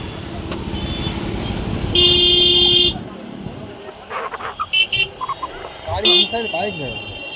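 Dense evening road traffic near a bridge on the Canning to Moukhali route, with motorbikes and cars passing. A steady engine rumble carries a sustained horn blast and later short, choppy honks and toots nearby.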